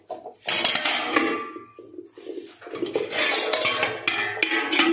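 Dishes, pots and utensils being washed at home, with steady clattering and clinking of metalware that rises and falls across the clip, close and fairly loud.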